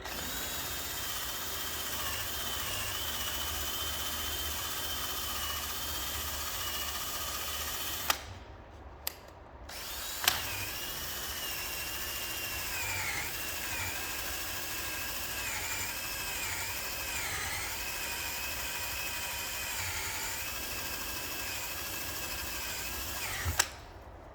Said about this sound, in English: I'm going to use my my wheel and hopefully get it off without damaging the paintwork